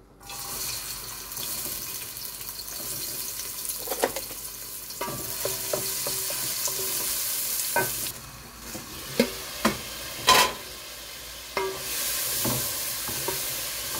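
Curry set cooking in a pan, with spices and sweet pumpkin going in: a continuous sizzle runs underneath while a spoon knocks and scrapes against the pan in scattered sharp clinks, no voices.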